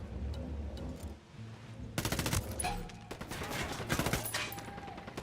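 Squad gunfire in the video game Ghost Recon Wildlands: a quiet stretch breaks into loud, close bursts of automatic and single shots from several weapons firing together, with rattling volleys continuing to the end.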